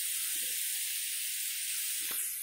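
Onion paste frying in a pan for a fish curry makes a constant close hiss and sizzle, with a brief clink near the end.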